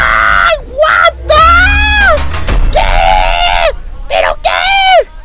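Game characters in the knight combat game Bloody Bastards screaming in loud, drawn-out, wavering cries, several in a row with brief gaps, close and harsh over a background rumble of battle.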